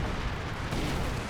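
Artillery shells exploding in the World War II strategy game Company of Heroes 2 make a dense, continuous roar of blasts and rumble, loud and close throughout, with no voices.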